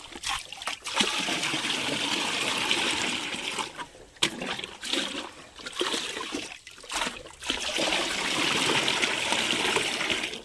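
Liquid bacterial culture, about twenty litres, is poured into a farm barrel holding a jaggery mixture, giving a loud, steady gushing splash with a few brief breaks.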